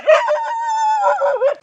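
A dog lets out a single close, loud, drawn-out yelping howl that wavers in pitch before breaking off.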